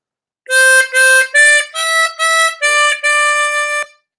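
Harmonica phrase played on holes 4 and 5, seven clear blown and drawn notes in a steady rhythm, close and loud, ending in a held final note, with no talk.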